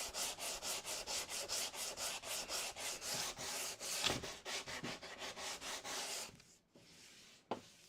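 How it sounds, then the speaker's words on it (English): A cork block rubs sandpaper back and forth over a wooden panel by hand, close and steady, about twenty even strokes in a brisk rhythm before a pause near the end and one last short scrape. "A cork block is best because it'll follow the contours."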